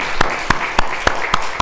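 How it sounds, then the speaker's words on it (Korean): Clapping at a church worship service comes as six sharp, evenly spaced claps in a quick, steady rhythm. The claps are close and loud above a soft background murmur. "우리 박수 한번 하나님께 올리겠습니다."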